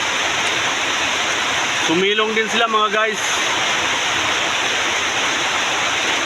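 Heavy rain pouring down in a steady, loud, unbroken roar, with a person speaking briefly over the downpour partway through.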